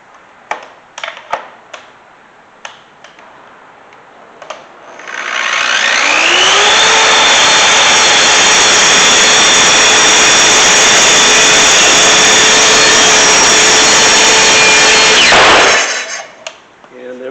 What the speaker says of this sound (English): press both the thumb stop and the trigger, and then bring that blade down to cut into my MDF